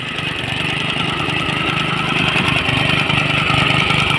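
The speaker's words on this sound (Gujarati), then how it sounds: "આને આમ તો ધુમ્મસ મશીન કહેવાય, માટી ટીપણ મશીન કહેવાય" A soil tamping compactor machine's engine runs steadily and loud while packing filled earth in a village, a continuous mechanical drone with a faint rhythmic pulsing throughout.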